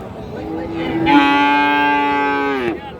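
A bull calf at a cattle market, Friesian or crossbred, lets out one loud, drawn-out moo lasting about a second and a half, with quiet market background before and after.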